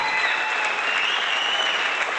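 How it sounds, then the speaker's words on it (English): Steady, dense applause from a crowd, loud and continuous throughout with no break. "You guys can hear me over the applause."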